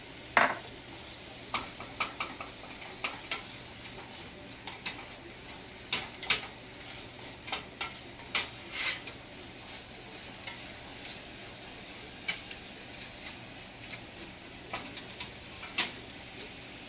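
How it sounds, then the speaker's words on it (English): Garlic and onions sizzle in butter in a pot, a steady crackling hiss with scattered sharp pops and ticks, as if being stirred, heard up close with no talking. "The garlic is at the bottom and it's sizzling and releasing its flavor"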